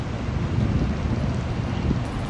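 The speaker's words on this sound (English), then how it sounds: "I can hear it. Huh? I can hear it. The waterfall." Roswell Mill waterfall in Roswell, Georgia, heard from the trail as a steady, broad roar of rushing water mixed with wind noise on the microphone, continuous and unbroken.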